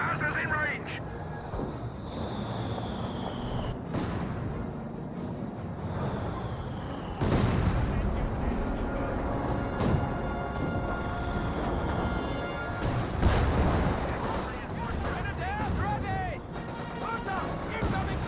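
Tank cannon fire in a Company of Heroes battle, including shots onto a Comet tank: repeated booming blasts and sharp impacts scattered through busy battle noise, under continuous commentary.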